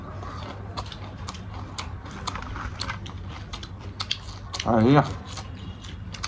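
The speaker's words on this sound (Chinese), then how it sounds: "嘎嘣脆啊， 嗯，清脆爽口" Crisp crunching of fried bean worm insects being chewed, steady bites close to the mouth throughout, with a brief spoken exclamation near the end.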